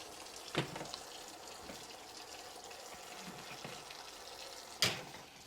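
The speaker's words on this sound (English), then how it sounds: "while you're washing up" Faucet water runs quietly in a kitchen during washing up, a low steady trickle with a couple of sharp clanks of dishes or utensils near the start and end.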